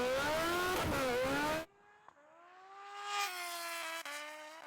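Drag race launch with a MotoGP bike, Rimac Nevera and turbo Hayabusa accelerating hard, a loud roaring engine surge that cuts off abruptly, then a rising whine as another machine pulls away into the distance.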